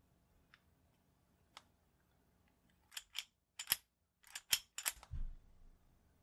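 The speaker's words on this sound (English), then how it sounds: "Then I can dry fire it again." Colt 1903 Hammerless pistol being dry fired and handled, giving a cluster of sharp metallic clicks and snaps close up, with a couple of faint isolated ticks before and a short rattling scrape at the end.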